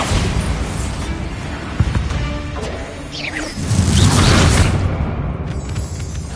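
A Bombarda spell explosion in Hogwarts Legacy bursts into a deep, rumbling boom with a whooshing swell that rises midway and fades out, close and fairly loud, with no talking.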